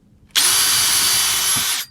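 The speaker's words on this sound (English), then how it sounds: "And what I do is get the pilot drill." A pilot drill bores into wood on a homemade crab trap in one steady, loud whine of about a second and a half, starting and stopping abruptly.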